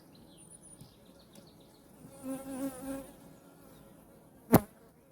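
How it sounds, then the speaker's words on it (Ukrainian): Honey bees buzz around an open hive at an isolated forest mating apiary, a soft, continuous drone that swells briefly midway, with a single sharp click near the end. "Як ви бачите, молода бджола тут є, вже немала її кількість."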